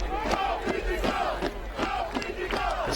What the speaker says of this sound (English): the crowd shouts, "Go Fiji, go!"